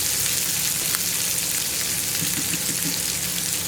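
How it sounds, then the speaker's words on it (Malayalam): Onions sautéing with salt in a hot pan make a loud, continuous sizzle and crackle, close and steady, with a light stirring texture and no talk. "സവോള ചേർത്ത് നന്നായിട്ടൊന്ന് ഇളക്കി ഉപ്പൊക്കെ ആയിട്ടൊന്ന് മിക്സ് ആയി കഴിയുമ്പോൾ"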